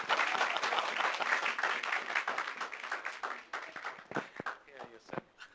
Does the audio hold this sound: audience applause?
yes